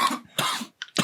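Several sharp, close coughs in quick bursts separated by short pauses, with a bit of throat clearing mixed in.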